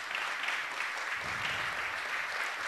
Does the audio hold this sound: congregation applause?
yes